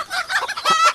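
Loose chickens meant for slaughter cluck and squawk close by in a quick burst of agitated calls, with a sharper, drawn-out cry near the end.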